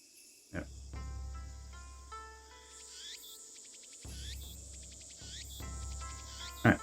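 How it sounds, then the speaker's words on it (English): Steady insect buzzing of cicadas in the video game Steins;Gate, a continuous high drone with chirping layered over low music tones, carrying on through the whole stretch without a pause. "damn cicadas won't shut up"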